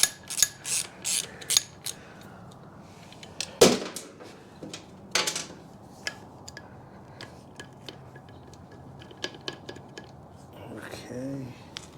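Wrench clicks and metallic tool taps while removing the loose kickstarter nut on a 1985 Yamaha YZ250 engine case, a scattered series of short ratcheting clicks and clanks at close range with quiet gaps between them.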